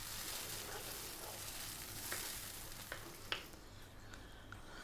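Homemade tomato sauce simmering in a pan, a soft, constant sizzle and bubbling with a few faint clicks and pops, quiet and steady with no talking.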